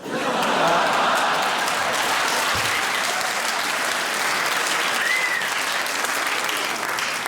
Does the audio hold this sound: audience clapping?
yes